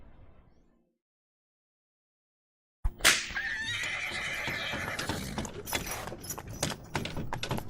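A horse whinnies loudly in the steampunk mystery game Lamplight City after a brief quiet gap, followed by clip-clopping hooves and mechanical clatter continuing to the end.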